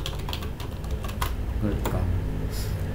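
Keystrokes on a computer keyboard as a short web address is typed into a router terminal, a quick cluster of clicks followed by a few scattered taps, close and fairly clear over a low steady hum.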